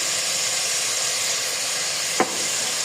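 Chicken sizzling steadily in a pan with garlic paste for a Ramzan-style chicken nihari, a constant broadband hiss throughout with one brief clink near the end, no voices.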